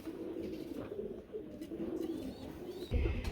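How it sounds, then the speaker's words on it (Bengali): A pair of white Bombay pigeons coo softly at a farm, low repeated cooing over steady background noise, with a louder thump near the end. "প্রিয় বন্ধুরা, এক জোড়া বোম্বাই কবুতর দেখাবো।"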